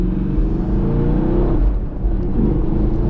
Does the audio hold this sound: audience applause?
no